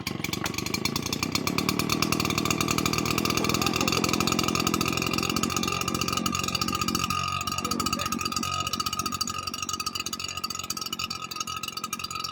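A small two-stroke string trimmer engine runs with a loud, continuous buzzing rattle, close by and steady throughout, with no speech over it.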